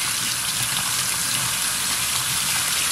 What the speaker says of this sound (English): So I'm gonna run the water in here.